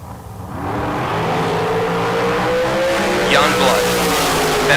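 Dragsters at a bracket drag race roar down the strip in a loud, rising engine howl with some tire noise. A public-address announcer talks over the racing.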